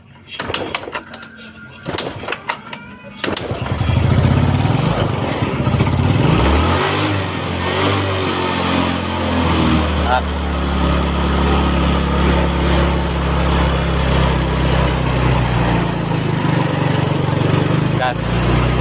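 A Yamaha Mio Sporty scooter that is hard to start and weak on power revs its engine up and down, a steady close mechanical drone after a few rough starting bursts, with people talking over it.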